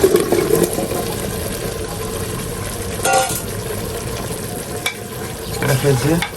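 Vegetable curry with dal frying in a pan, a steady sizzle running throughout with a couple of louder stirring scrapes, close and fairly loud, no talking.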